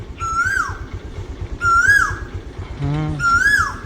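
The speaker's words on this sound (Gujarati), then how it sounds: "એક બાજુ કોયલ બોલે" An Asian koel calls three times at steady intervals, each a loud, clear rising whistle, with a low hum in the background.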